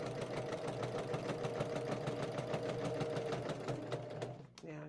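Domestic sewing machine quilting, a steady fast mechanical chatter with a regular stitch rhythm running continuously up close, then slowing to a stop at the end.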